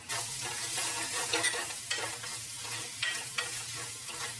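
Onions sautéing in a pan with a pinch of garam masala for Chettinad mutton chukka, a close, even sizzle broken by several rhythmic spatula stirs and scrapes, with no voices.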